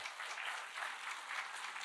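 A steady burst of close, dense clapping from a church congregation, evenly sustained without any voices.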